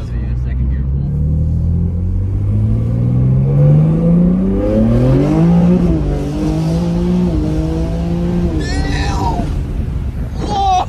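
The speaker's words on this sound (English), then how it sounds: "We'll do a second gear pull instead." A BMW G80 M3 making a hard second-gear pull on the street, its engine note climbing steadily in pitch as it accelerates, loud and close, with voices over it.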